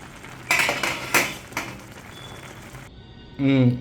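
A spoon stirs veg pulao in a rice cooker pot, giving a few sharp metallic clinks and scrapes close by. A brief voice comes in at the end.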